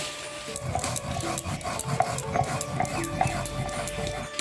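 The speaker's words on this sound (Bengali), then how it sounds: "ভেজে রাখা জিরাটা ধনিয়াটা একসাথে বেটে নিই" Roasted cumin and coriander seeds ground together on a stone slab for a street-style ghugni, giving a steady, close gritty rasp and rubbing with rhythmic strokes and a few light knocks, no voices.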